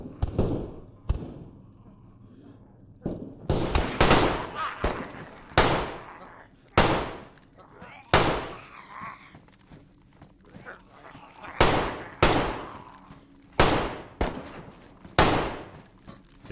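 Bursts of gunfire aimed at zombies in the DayZ Deer Isle video game, roughly ten sharp broadband shots spread unevenly over the stretch, loud and close, with quieter background rumble between them.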